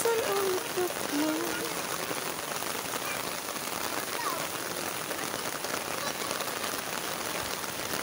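Steady rain falls during the rainy season while children bathe in it outdoors, a dense continuous patter on surfaces with faint voices mixed into the background.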